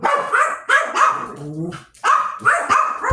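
Several dogs bark excitedly in quick bursts close by, with a short whimpering yip between the barks.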